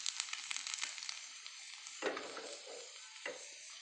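Garlic sizzles in hot oil for a Kerala-style olan, a steady close crackle and hiss with a couple of sharper stirring scrapes partway through.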